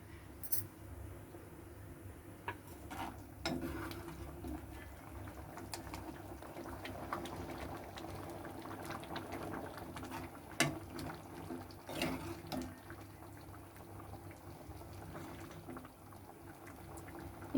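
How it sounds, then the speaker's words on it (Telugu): Rajma curry simmers in a covered pot, giving faint, steady bubbling with scattered small clicks and rattles throughout, quiet and close. "ఇగో మసులుతుంది, మరుగుతుంది."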